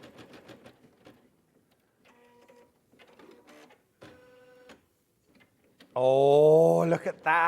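A Husqvarna sewing machine stitching on a live sewing shopping broadcast, a run of soft rhythmic mechanical clatter in short bursts, followed by a loud burst of overlapping voices and music near the end.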